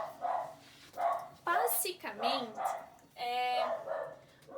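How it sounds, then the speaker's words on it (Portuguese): Several dogs bark and yip repeatedly in loud bursts close by in a home, while someone speaks Portuguese over and between the barks. "os cachorros estão me atrapalhando"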